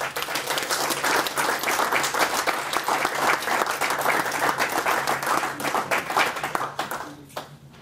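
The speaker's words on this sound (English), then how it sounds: "Could you please give him a round of applause?" Sustained audience applause at a journalism awards ceremony, loud dense clapping from a crowd filling the room, fading out near the end.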